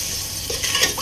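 Turmeric and chili powder with a splash of water sizzle in a pan of frying prawns and bottle gourd while a utensil stirs, soft scraping strokes growing livelier toward the end; no talk.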